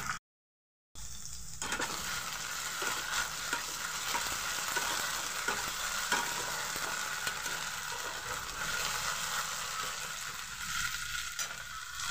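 Spices and ginger-garlic paste frying for rajma, stirred in the pan, giving a steady, close sizzle with soft scraping that lasts throughout after a brief silent start.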